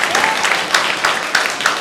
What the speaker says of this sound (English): now give them a real round of applause